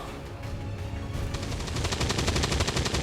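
Automated turret gunfire in the video game XCOM 2, a rapid rattling burst of repeated shots that grows louder and denser midway and continues steadily to the end.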